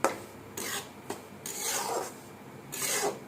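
Semolina (rava) roasting in a pan for upma, with a spoon scraping and stirring it in soft, gritty rasping strokes that come in short bursts. The sound is faint and close, with no talk.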